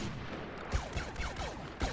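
Rapid blaster shots in Star Wars Battlefront's Bespin battle, a flurry of sharp zaps and descending laser whistles firing back and forth at fairly low volume, with no talking.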